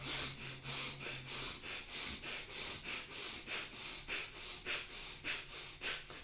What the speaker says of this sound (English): focus on strong and fast diaphragmic breathing for a while